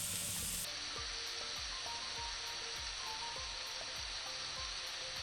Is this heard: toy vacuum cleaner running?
no